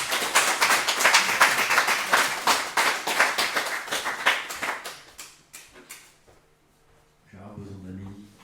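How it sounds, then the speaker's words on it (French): Small audience clapping for a presenter at a women's gathering, a dense round of applause for about five seconds that thins to a few scattered claps before a voice starts talking. "on peut l'applaudir."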